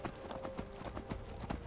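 A horse walks with steady, rhythmic clip-clopping hooves in a video game, a quiet and evenly paced trot, without talk.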